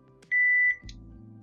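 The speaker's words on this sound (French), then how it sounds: "2 bips" A COZONE wifi GSM alarm keypad gives a single sustained electronic beep, clear and close, followed by a low buzzing tone.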